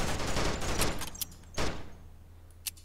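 Gunfire in a first-person shooter game: a dense burst of rapid shots at the start fades into a few sharp isolated cracks and thuds, fairly loud against a low hum.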